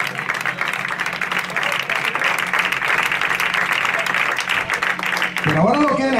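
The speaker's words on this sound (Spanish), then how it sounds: "Dale palmas, ya le empezó a caer" Church congregation clapping in a steady, dense wash of applause that fills the space, loud and continuous, with a few voices rising over it near the end.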